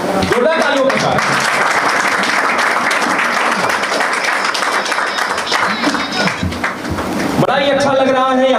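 Loud, sustained audience applause rings out at a farewell ceremony for defence academy recruits in Sidhi, with many hands clapping densely for several seconds before a voice takes over at the end.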